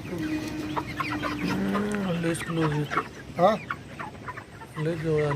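Several chickens cluck and squawk close by in an irregular series, with one drawn-out call and some background voices.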